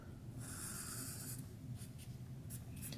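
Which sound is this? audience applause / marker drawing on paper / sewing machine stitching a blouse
marker drawing on paper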